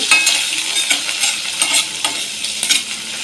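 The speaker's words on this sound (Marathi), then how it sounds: "आपण एक मोठा कांदा बारीक चिरून घेतलेला आहे तो टाकू आणि कांदा टाकून परतून घेऊ" Finely chopped onion sautés in hot oil for a Vidarbha-style patwadi rassa, with steady sizzling and frying crackle and a few stirring scrapes, close and continuous with no talk.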